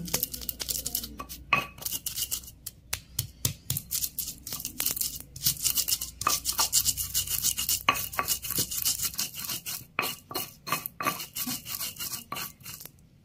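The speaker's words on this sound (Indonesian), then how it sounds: "Bawang putih, kemiri, merica, dan garam. haluskan dulu pun" Garlic, candlenut, pepper and salt being ground by hand in a kitchen, giving repeated scraping and knocking strokes in an irregular rhythm, close and fairly clear with no talk.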